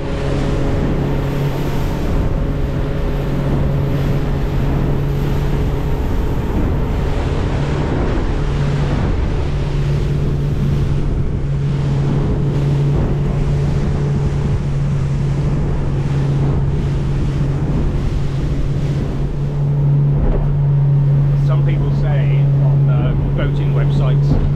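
A Warrior 175 boat powers through a lumpy sea at around 18 knots, its outboard droning steadily beneath loud wind buffeting and splashing waves, with a voice talking over it.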